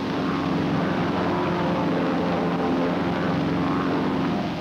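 A propeller airplane engine drones steadily and loudly during formation flying practice, its throttle advanced as the aircraft eases into right echelon position; the continuous roar holds even throughout with no talk.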